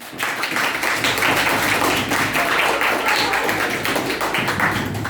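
Students applaud a quiz team at an end-of-term 8th-grade knowledge contest, with dense, steady clapping that holds loudly from start to finish.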